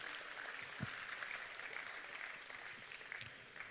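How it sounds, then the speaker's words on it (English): A conference audience at a university blockchain event applauds a team called Gamera, the clapping fairly distant and soft, a continuous patter with a few sharper claps and faint crowd murmur. "A round of applause for Gamera"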